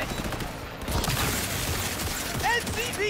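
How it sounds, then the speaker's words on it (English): Bursts of gunfire crackle through a neighborhood in Cyberpunk 2077, with rapid volleys and sharp mechanical clatter at moderate loudness, plus a few high whistling tones near the end. "they're shooting up the neighborhood."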